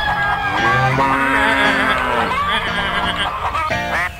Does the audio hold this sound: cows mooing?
yes